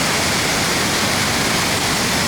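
Creek water rushes in a steady, loud, unbroken wash of noise, close up, with no voices.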